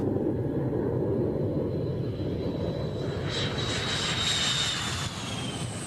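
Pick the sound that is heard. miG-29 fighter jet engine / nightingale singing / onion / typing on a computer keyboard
miG-29 fighter jet engine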